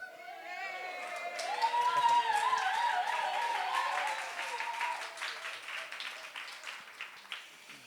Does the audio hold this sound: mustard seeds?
no